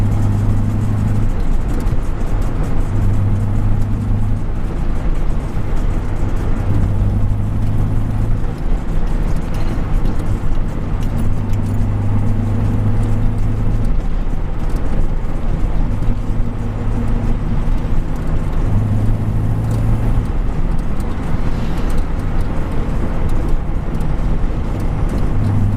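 A 1962 Morris Minor engine runs at a steady idle, a loud, continuous low rumble with a faint periodic throb, close by and with no voices.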